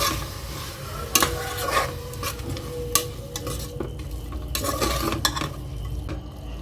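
Goat intestine curry being stirred after chili and turmeric powder go in, a steady close scrape and sizzle with scattered sharp spoon knocks against the pot, no voices.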